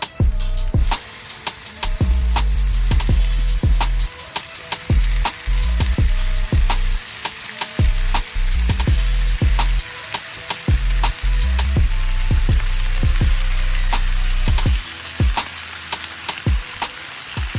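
Ribeye steaks and sautéing onions searing on a Blackstone griddle, a loud continuous sizzle punctuated by frequent sharp spatula clicks and scrapes throughout, close up and without speech.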